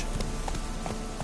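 Roach, a video game horse, gallops with a quick, steady clip-clop of hoofbeats, several even strikes in a short run at moderate loudness.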